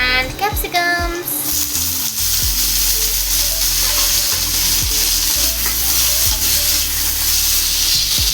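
Onions, tomatoes and capsicums frying in a pan, a loud steady sizzle with a burst of bubbling as vegetables drop in, then periodic stirring scrapes and clanks, close up.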